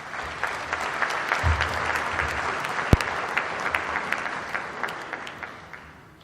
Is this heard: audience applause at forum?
yes